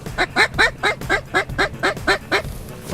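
Ducks calling in a rapid run of about ten loud, nasal honking quacks at close range on a coastal morning hunt, with a steady outdoor background and no talk.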